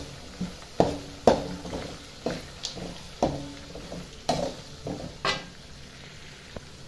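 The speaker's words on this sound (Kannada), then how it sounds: "ಹಸಿ ಉಳ್ಳಾಗಡ್ಡಿದು ವಾಸನೆ ಹೋಗುವವರೆಗೆ ಚೆನ್ನಾಗಿ ಫ್ರೈ ಮಾಡ್ಕೋಬೇಕು" Chopped raw onions fry in a pan for Gadag-style girmit, a soft steady sizzle broken by repeated scraping stirs of a spatula at a fairly even rhythm, close by and without any voices.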